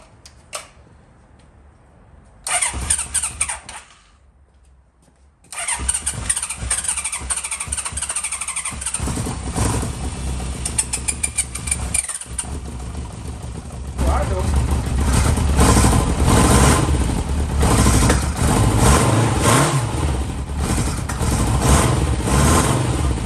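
A Honda CB900 Custom motorcycle engine cranks and catches, then idles loudly and roughly, sputtering and surging close by, with a few brief quiet gaps before it fires.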